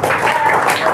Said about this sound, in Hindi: चलिए पर जोरदार तालियां तीनों के लिए।